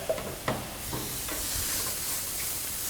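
Spices blooming in hot oil in a pan for Moroccan chicken, a steady close sizzle and hiss with a few stirring knocks near the start, alone without talk.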